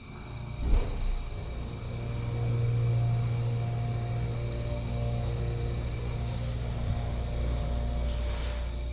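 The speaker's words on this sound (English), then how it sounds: "let's listen to the motor" A ThyssenKrupp Signa4 elevator motor runs in a library building, giving a steady low hum with a faint tonal whine that holds evenly for several seconds under soft background noise.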